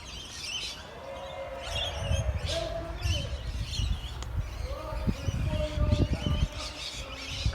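Seagulls call out over water on a fine day, a mix of near and farther cries and chirps repeating irregularly above steady outdoor background noise, with a few soft knocks.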